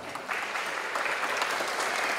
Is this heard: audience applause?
yes